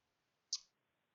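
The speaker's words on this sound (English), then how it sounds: "I'm going to right click" A single crisp computer mouse right click, short and close in an otherwise quiet room.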